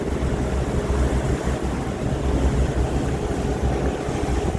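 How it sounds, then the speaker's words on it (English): Strong wind buffets a boat on a rough lake, a continuous loud roar of gusts and microphone rumble mixed with the wash of choppy water. "it's very windy over here."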